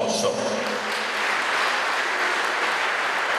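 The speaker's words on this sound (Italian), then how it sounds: "a cui vorrei per primo fare un grande applauso" Applause from an audience during a visit to a recovery community in Italy, a continuous wash of clapping that holds steady throughout, with a voice briefly audible at the very start.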